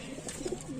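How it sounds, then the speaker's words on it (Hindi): Pigeons kept at a house in Bisalpur during Dhanteras, cooing softly in a few short low murmurs over faint background noise, with no talk. "ये देखो सुंदर सुंदर कबूतर।"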